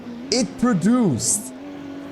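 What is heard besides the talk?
Ferrari 4.9 liter flat V12 engine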